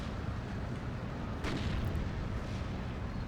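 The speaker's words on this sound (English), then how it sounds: "Nebelwerfer batteries doing good effect against these Russian guards" Nebelwerfer rocket artillery barrage in Steel Division 2 rumbles as a distant, continuous low roar of explosions, with a sharper burst cracking through midway.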